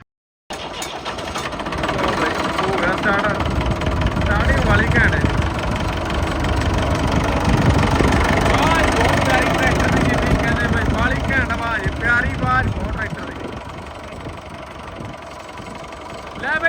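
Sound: old DI tractor engine started and running

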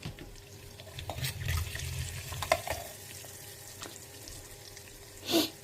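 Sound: mustard seeds spluttering in hot oil in a stone pot

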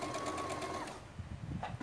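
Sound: sewing machine stitching with backstitch

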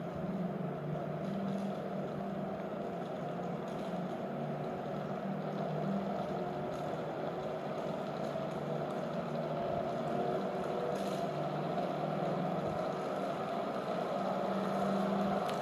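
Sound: axial flux BLDC motor running

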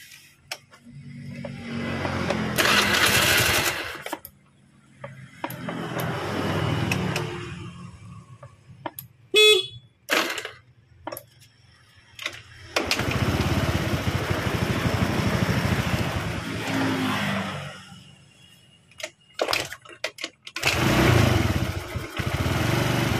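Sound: carbureted motorcycle engine starting and idling

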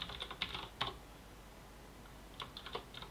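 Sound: typing on computer keyboard in terminal

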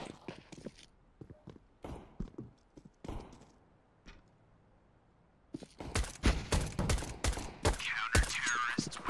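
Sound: gunfire in a video game

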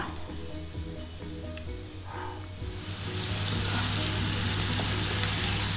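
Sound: prawns frying in hot coconut oil

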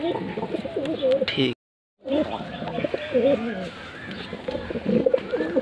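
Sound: Madrasi pigeons cooing in a loft

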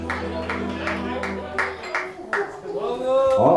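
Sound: audience applause

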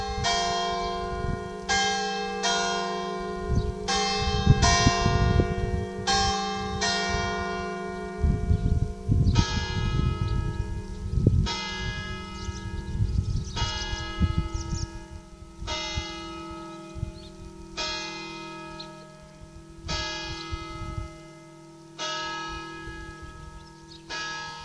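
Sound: three church bells ringing the noon peal

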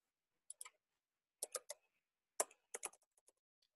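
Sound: typing on a computer keyboard

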